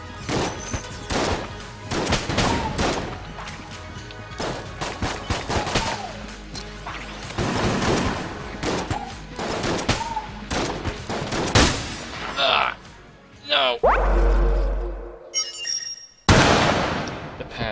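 Rapid gunfire bursts and blasts from a shotgun in the video game Enter the Gungeon, loud and dense, with crashes layered over a busy game soundtrack and occasional speech.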